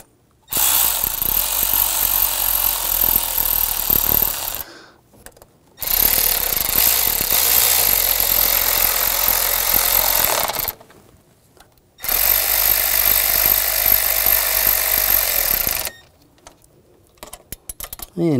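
A power tool tightens the thermostat housing bolts on a 2006-2010 BMW 550i, running in three long, loud, close bursts separated by brief pauses.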